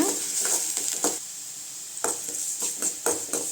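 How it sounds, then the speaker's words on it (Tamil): Pirandai (adamant creeper) sautéed in oil in a pan, a constant high sizzle broken by repeated rhythmic scraping strokes of a spatula, about a dozen in quick bursts with brief pauses. "நல்லா அந்த எண்ணெயிலே வதக்கணுங்க"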